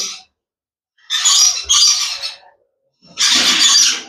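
Pineapple conure parrots give loud, harsh squawks in three close bursts, separated by short pauses.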